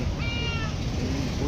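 A cat gives a single short meow, then goes quiet against steady outdoor background noise.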